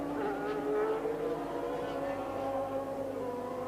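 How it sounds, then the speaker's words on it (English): A Formula One car, Gerhard Berger's, screams past during practice for the 1990 Portuguese Grand Prix, its high-revving engine holding a loud, steady, layered whine throughout with no break or fade. "flashes past Gerhard Berger"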